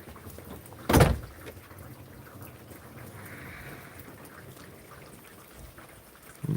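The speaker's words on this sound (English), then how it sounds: "Raining a decent bit." Steady rain falls outdoors over a yard with several water-filled pools, a soft continuous hiss throughout, broken by one sharp thump near the start.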